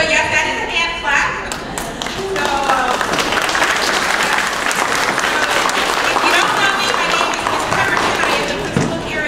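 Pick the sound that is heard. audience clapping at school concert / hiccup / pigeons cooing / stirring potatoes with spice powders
audience clapping at school concert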